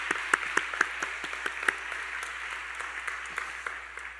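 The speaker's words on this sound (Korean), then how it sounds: "큰 감사와 영광의 박수 드리겠습니다" Applause from a church congregation at an Easter service for young adults, steady crowd clapping with a few sharper individual claps standing out near the start, moderately loud and continuous throughout.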